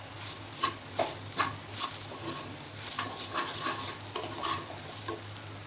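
Spices sautéing in oil in a pan for a drumstick masala dish, a steady low sizzle with a few scraping stir strokes, close and alone with no talk.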